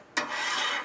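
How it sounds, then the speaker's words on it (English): Metal spatula scraping and spreading sunflower oil across a hot Blackstone griddle cooktop, a sudden close rasping rub that holds steady for under a second with no talk. "Take our spatula and just spread it around evenly all over our cooktop."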